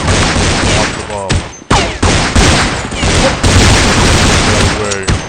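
Gunfire in the Counter-Strike 1.6 video game, dense overlapping shots and booms filling a busy round with radio voice callouts heard over the shooting.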